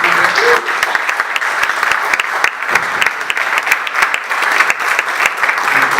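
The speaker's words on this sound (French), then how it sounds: "je vous demande d'applaudir tous ces intervenants" An audience claps for a group of speakers at a public event, a dense, steady round of applause filling the whole stretch at close range with no voices over it.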